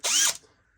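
A short, loud burst of a power drill whining at high speed, then spinning down and fading quickly.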